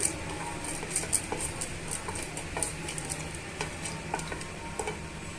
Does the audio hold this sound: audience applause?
no